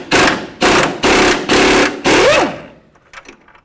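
A power tool rattles in five short, loud bursts close by while a 21mm control arm bolt on a 2007-12 Dodge Caliber is unscrewed, followed by faint clinks as it stops.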